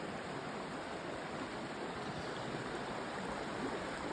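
Middle Creek, a mountain creek on the Continental Divide Trail in Colorado, rushes steadily and continuously, a broad, even wash of flowing water heard up close with no voices over it.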